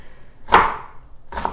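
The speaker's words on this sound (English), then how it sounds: "This onion chopping technique of going down at an angle rather than across" A knife chops through an onion, cutting down at an angle, in two crisp strikes on a board about a second apart. The first cut is louder and sharper, the second softer, with no talking.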